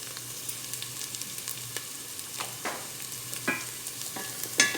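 Garlic sizzles and crackles softly in a pan for a Filipino sotanghon chicken guisado, with light stirring scrapes and occasional sharper pops over a steady low hiss, no talking.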